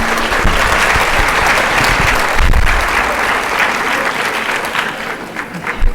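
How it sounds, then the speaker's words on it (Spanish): A seated audience at a forum on conscientious objection and abortion claps for an incoming speaker, steady dense applause lasting several seconds and tapering slightly at the end. "Le damos un aplauso y le cedemos la palabra."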